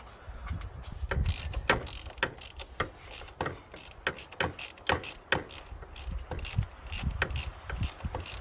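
A ratchet wrench clicks in quick, uneven bursts while the drain screw goes back into a car after an oil filter change. The metallic ticking is close and fairly loud, with no talk over it.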